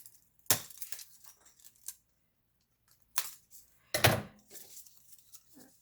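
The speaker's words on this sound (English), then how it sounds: "I'm just going to give the straws a snipperoonie." Scissors snipping through drinking straws for a geometric himmeli centerpiece, several crisp close cuts at irregular intervals with small clicks and rustles between them.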